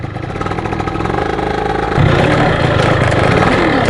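A motorcycle engine running close and loud, with a steady rough idle that shifts to a lower, heavier throbbing partway through.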